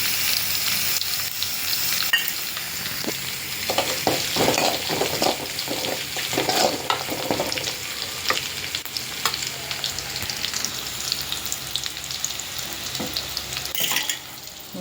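Asafoetida dropped into hot oil for tempering a kara kuzhambu tamarind curry, giving a steady close sizzle and crackle of frying with light stirring scrapes and occasional utensil clinks throughout.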